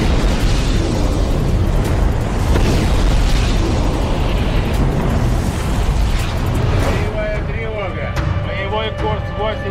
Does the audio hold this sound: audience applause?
no